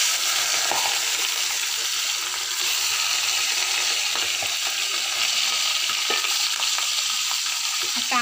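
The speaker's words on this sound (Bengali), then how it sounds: "চলো বন্ধুরা, মাছগুলো ভেজে নিই।" Rohu fish pieces fry in hot oil in a kadai, giving a steady, dense sizzle and crackle that runs unbroken throughout with occasional sharper pops and faint stirring, close and fairly loud.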